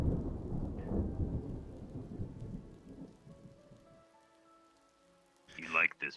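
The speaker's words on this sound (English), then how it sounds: "You know, Miss Walsh, you probably don't want to be here if you're afraid of the thunder and lightning." Rolling thunder rumbles low and loud with rain, fading into a quieter stretch, then a sharp burst of sound at the end; a voice speaks briefly.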